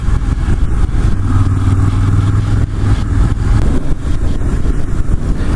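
A 2019 Ducati Monster motorcycle on a ride, its engine droning steadily and loudly with a rough mid-pitched rumble and rushing wind, no voices.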